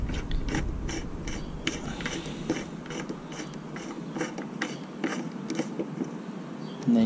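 A screw being driven into a hydrofoil mount, heard as a steady run of rapid ratcheting clicks from a close-up tool, fairly loud and continuous over a low mechanical rumble.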